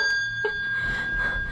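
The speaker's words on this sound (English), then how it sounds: "This bell, when we ring it, it means that the kids are home and we put down the alcohol." A house bell hanging in a home kitchen, rung once and giving a clear, sustained metallic ring that holds steadily through the short moment, close by and alone.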